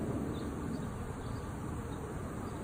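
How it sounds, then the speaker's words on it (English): A swarm of honeybees, European or Africanized, flying overhead in Arizona, giving a dense, continuous buzzing hum with no voices. "Honeybees."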